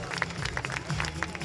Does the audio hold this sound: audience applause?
yes